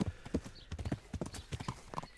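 Horse hooves clip-clopping at a brisk riding pace in Kingdom Come Deliverance, a quick uneven run of close hoof strikes with no talk.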